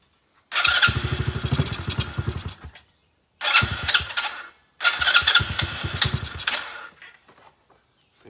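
X-pro Bolt 110cc motorcycle engine running rough with the choke on, struggling to take fuel; three loud, close bursts of sputtering running separated by short cut-outs, ending in a faint tail.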